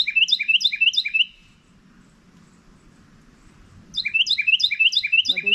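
Very small birds chirping in rapid, repeated high trills, loud and close, with a gap of low outdoor background in the middle before the chirping returns in Shenandoah, Virginia.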